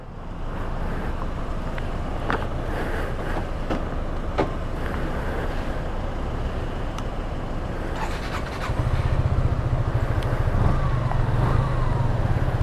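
A 2024 Suzuki Gixxer FI motorcycle in metallic lush green rides on a test run, its engine drone mixing with steady wind rush over the microphone and rising louder toward the end.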